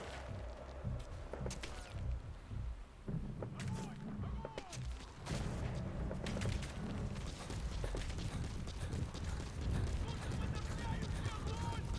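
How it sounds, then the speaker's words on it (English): Enemy gunfire in Metal Gear Solid V, scattered sharp shots and bursts hitting nearby among rumbling game noise, with someone talking over much of it. "Oh, they're shooting at the box."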